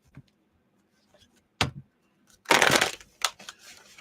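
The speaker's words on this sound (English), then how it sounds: "Let me just shuffle this up." Tarot cards are shuffled by hand in a few quick bursts, sharp riffling flutters separated by quiet pauses, close and fairly loud, with no talking.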